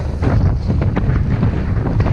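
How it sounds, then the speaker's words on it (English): Strong wind buffets the microphone in heavy, continuous low rumbling gusts during a bike ride near Red Hill in Lincolnshire, with no voices. "So windy, can't believe it."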